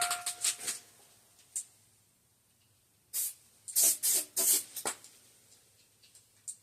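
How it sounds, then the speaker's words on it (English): An old blueberry spray rig nozzle sputters out several short hissing bursts of spray, separated by quiet gaps, close by with no talk. "let's see if I can blast out the nozzle."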